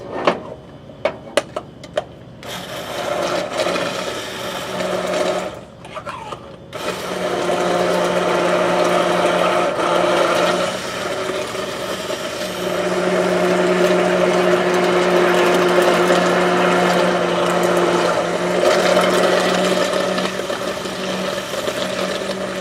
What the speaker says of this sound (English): And then I'm going to blend.